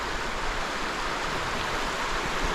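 A creek flows steadily beside a road near a covered bridge, a constant close, broadband rush of water with no voices.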